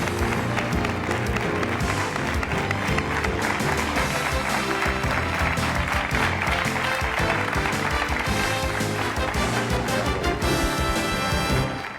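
Sustained, dense applause from a television studio audience at a Spanish tribute show, loud and steady for the whole stretch with crowd noise folded in, then tapering at the very end.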